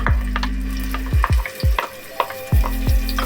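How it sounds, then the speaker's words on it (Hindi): Sliced onions frying in about half a cup of hot oil, a steady close sizzle broken by several sharp stirring scrapes and clatters. "प्याज को गोल्डन ब्राउन होने तक फ्राई करना है।"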